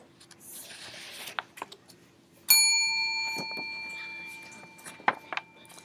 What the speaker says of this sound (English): The rope rang the big bell right under Mrs. Bird's nest.